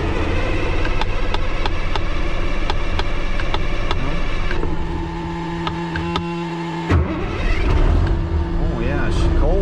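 A cabover semi truck's engine running roughly after a cold start, a loud continuous rattling idle with regular knocks that changes character partway and then revs briefly, with someone speaking nearby.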